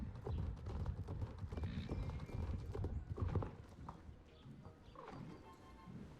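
Hooves of a horse being ridden in a video game clop in a quick steady rhythm, close and fairly loud, with occasional brief whinnies and other faint game sounds.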